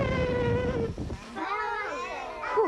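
A voice imitates an elephant with a high, wavering trumpet-like call, then rising and falling squealing tones, close and fairly loud.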